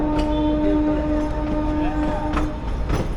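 A narrow gauge passenger train running slowly from Bilimora to Waghai, a steady low rumble and rattle of carriages with a sustained tonal whine, faint and even, with occasional clicks along the track.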